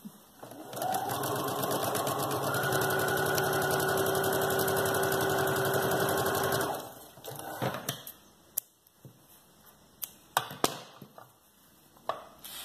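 A sewing machine with a normal presser foot runs a straight seam on fabric, giving a steady mechanical whir for several seconds, then stops, followed by faint clicks and handling noises.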